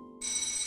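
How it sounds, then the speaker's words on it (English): A telephone ringing with a bright electronic bell tone, starting abruptly after a short lower tone and holding steady and clear. "The phone keeps ringing."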